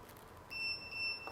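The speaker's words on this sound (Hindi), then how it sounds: "इको मोड से यूपीएस मोड में चला आया 2 बीप साउंड के साथ में" Two high electronic beeps from a Luminous Li-ON 1250 sinewave UPS (1100VA/880W, built-in lithium battery) as it switches from eco mode to UPS mode, the tones arriving close together and fairly faint over a low room hum.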